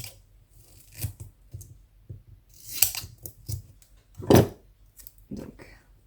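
Scissors snip paper candy packaging in a quiet room, with a handful of separate crisp cuts and faint rustling of paper between them.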